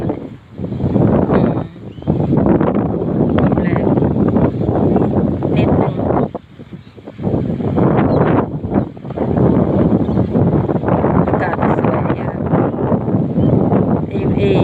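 Strong seaside wind roars continuously into the microphone close by, a loud broadband rush that dips briefly a few times and otherwise stays steady throughout.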